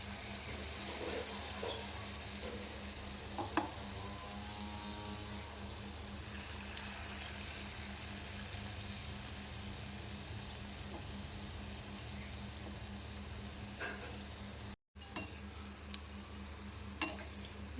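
Wheat-flour dumplings fry in hot oil with a steady, continuous sizzle and crackle throughout, broken by a brief gap near the end and a few louder pops.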